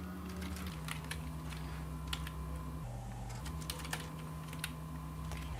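Steady clicking of keys on a computer keyboard while code is typed, close and moderately loud, with irregular bursts of keystrokes over a low hum and no talking.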